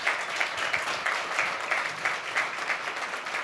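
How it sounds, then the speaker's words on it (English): Applause from a church congregation at a birthday celebration service, a steady dense patter of many hands clapping together throughout, moderately loud and filling the room with no talk over it. "Give these guys a round of applause."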